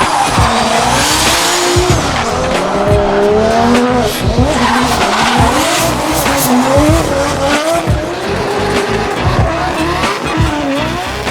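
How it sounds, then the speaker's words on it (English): Drift cars at a D1NZ drifting round at Mt Smart Stadium, including a stroked LS3-powered S14, roar loudly with continuous V8 engine howl and heavy, sustained tire squeal throughout. "Hamilton's George Myberg was also back to shred some rubber in his stroked LS3-powered S14."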